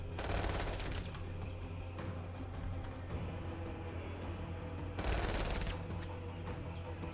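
Gunfire from the tactical video game Menace: dense, sustained volleys of shots that stay loud throughout, surging into heavier bursts at the start and again around the five-second mark.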